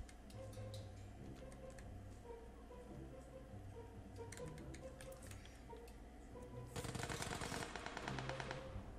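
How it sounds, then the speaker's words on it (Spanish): Gunfire in the PUBG Lite video game crackles as rapid, faint clicking shots, scattered at first and then a denser automatic burst near the end, over a steady low background hum. "Disparos por acá."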